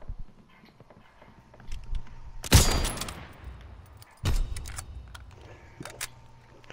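Sharp bursts of gunfire from a Call of Duty: WWII match, with two loud reports and a short clatter of shots among quieter game sounds, mostly isolated with little talk.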